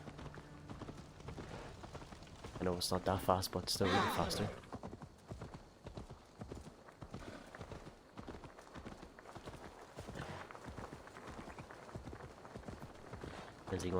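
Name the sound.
horse hooves clip-clopping in Assassin's Creed Valhalla video game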